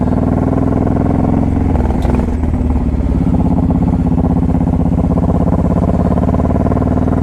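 A Honda VTX 1800 motorcycle revs loudly and close as the throttle cracks open, its deep rumbling idle rising into a sustained throaty roar with a brief clatter midway.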